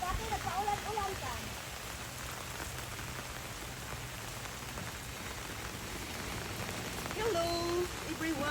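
Rain falls steadily on a farm, a soft continuous hiss of drops on surfaces that holds even throughout, with faint voices talking now and then beneath it.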